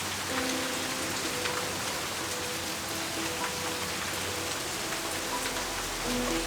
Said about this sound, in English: It's raining so hard that it's wet all the way back on the porch.